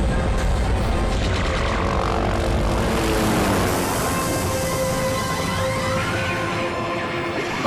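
Loud, continuous helicopter drone with a throbbing rotor roar that shifts in pitch as it passes close overhead, from the video game Army Men: Sarge's Heroes 2.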